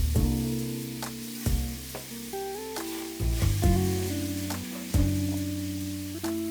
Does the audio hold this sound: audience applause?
no